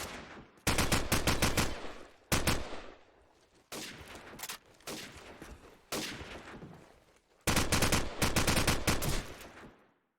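Sniper rifle shots in a competitive tournament match of a video game crack out in clusters of sharp, loud bursts, with rapid strings of reports separated by brief lulls.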